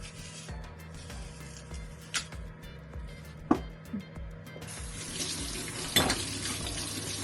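Tap water runs steadily into a kitchen sink while vegetables are washed, with occasional clinks of dishes and utensils; the stream grows louder near the end.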